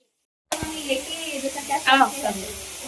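Fish fries in hot oil after an abrupt start, giving a continuous crackling sizzle while a voice talks over it.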